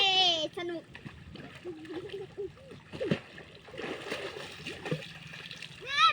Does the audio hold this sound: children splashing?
yes